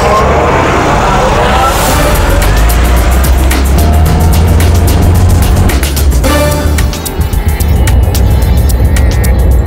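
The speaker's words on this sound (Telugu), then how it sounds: "సార్ మేము ఆ కారు వెనకాలే వెళ్తున్నాం." A car driving through city traffic while following a taxi in Mumbai: a loud, steady engine and road roar from inside the moving vehicle, with some faster rhythmic clicking later on, no speech.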